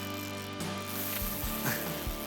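Fishing reel drag clicking as a hooked fish runs with the line, a rapid mechanical ratcheting buzz that surges in bursts, loud and close, with no talk.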